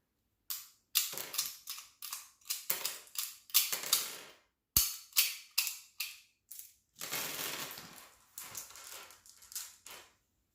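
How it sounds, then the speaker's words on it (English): Cartridges are pressed one by one out of a Taurus GX4 13-round pistol magazine, producing a rapid series of sharp, close metallic clicks and snaps with brief pauses between them. "We'll start with unloading the 13 round magazine."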